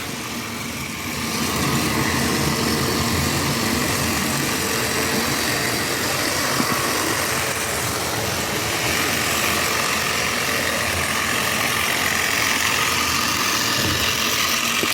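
A Power Trains battery-powered toy train engine from the Crane City Super Set runs steadily, pulling a long string of rolling stock, its motor whirring and wheels clattering in a continuous, fairly loud drone with no talk.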